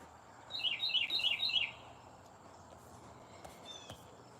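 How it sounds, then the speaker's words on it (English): Short bird whistle of five quick looping notes near the start, then faint outdoor background with a few soft distant chirps. "It's whistling."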